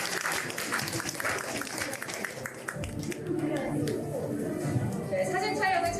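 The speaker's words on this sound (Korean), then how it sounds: "여러분 큰 박수 부탁드리겠습니다." An audience at a launch ceremony for a Hana citizens' media watch group applauds, a dense clapping wash that gives way midway to a speaker talking over the room's murmur.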